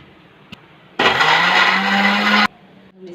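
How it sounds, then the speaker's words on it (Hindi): Kitchen blender grinding yogurt, sugar and ice for a Rooh Afza lassi, a loud steady whirring roar that starts abruptly, runs for about a second and a half, then cuts off, close up. "अब इसमें हम बर्फ़ डालेंगे और हम इसे ग्राइंड करेंगे।"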